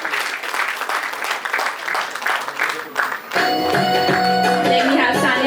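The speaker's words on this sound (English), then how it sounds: "Yes, parents. Keep applauding." Parents applaud at a school annual day, a steady crowd clapping that runs on and then gives way to louder music with tonal instruments.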